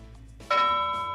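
One clear bell strike rings out during a late-night live antiques and vintage sale. The tone rings bright and fairly close and then decays slowly, with nothing else around it.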